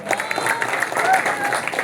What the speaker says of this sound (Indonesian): Tepuk tangan untuk beliau.